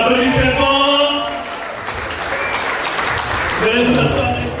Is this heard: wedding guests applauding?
yes